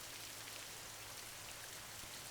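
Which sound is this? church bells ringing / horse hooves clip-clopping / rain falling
rain falling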